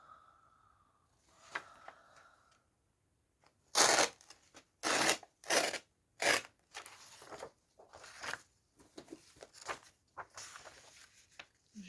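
Scissors snipping along paper edges for a junk journal: a run of crisp, close cuts in an uneven rhythm, then softer rustling of the paper in a quiet room.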